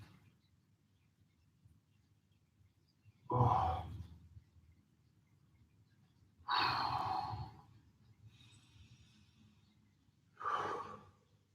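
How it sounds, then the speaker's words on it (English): Three slow, deep breaths during a home recovery stretching session, each a loud airy exhale spaced a few seconds apart with near silence between. "Good, big, deep breaths."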